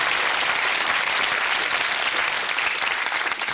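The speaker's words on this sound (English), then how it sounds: "Round of applause to Janet Burt" Studio audience applause at a UK TV quiz show greets a contestant: a sustained, even wash of many hands clapping, loud and continuous throughout.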